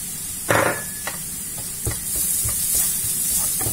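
Garlic tipped into a pan of browning onions, with a loud splashy hit and a sharp jump in sizzling, then steady frying hiss and a few utensil knocks against the pan.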